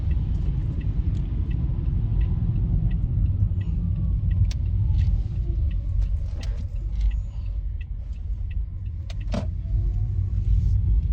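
Car driving on a road, heard from inside as a steady low engine and tyre rumble with occasional small cabin rattles and clicks, continuous and fairly loud, no talking.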